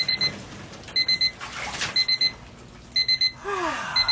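A timer beeper at the end of an ice bath chirps in quick bursts of four high, sharp beeps, repeating about once a second with short gaps, close and clear with no talking.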